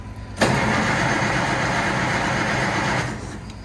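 A car engine cranks and catches at minus 3 degrees with the choke in use, turning over roughly and steadily for a few seconds close by before dropping away, with no talking.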